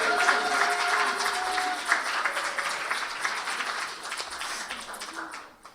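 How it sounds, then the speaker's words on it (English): Audience applause at an awards celebration, a steady wash of many hands clapping for several seconds with some tonal overtones and a faint voice underneath, tapering off near the end. "Let's give them a round of applause."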